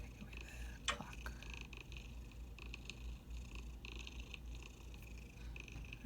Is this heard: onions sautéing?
no